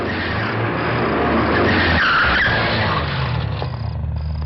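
A car skids to a stop, with a loud, close tire squeal over engine noise and a brief screech in the middle before the sound fades out.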